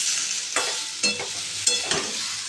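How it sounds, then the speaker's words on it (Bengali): A ginger, onion and garlic paste hits a hot pan and sizzles close by, with several bursts of spatula scraping and stirring breaking through the steady frying hiss, and no voices. "এবারে দিয়ে দিচ্ছি আদা, পেঁয়াজ আর রসুন বাটা।"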